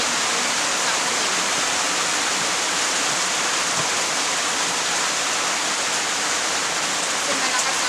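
Heavy rain pours in a dense, unbroken hiss, loud and close throughout, with no pauses or distinct drops standing out.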